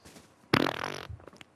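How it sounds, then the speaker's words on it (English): A loud fart sound effect in Fortnite, a sudden buzzy rasp lasting about half a second and then trailing off into faint game noise. "Farts, McWiggle."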